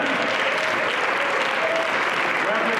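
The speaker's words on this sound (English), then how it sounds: "Can we give them a round of applause for the Rollins Center?" Audience applause at a conference event fills the space, a dense, steady wash of clapping from a large crowd that holds at full level without a break.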